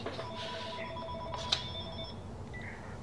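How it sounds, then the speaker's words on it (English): A phone rings in the video game GTA, two short electronic ring bursts sounding faintly over a low background hum, with no talk over it. "I've got a phone call."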